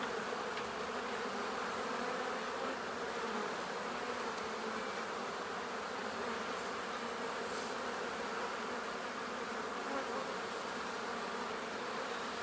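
A swarm of black honey bees buzzes inside a shed in April, a dense, continuous hum that stays steady and close for the whole stretch with no voices.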